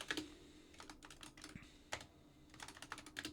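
Computer keyboard keys clatter in quick irregular bursts with short gaps, close and fairly quiet, with no voices.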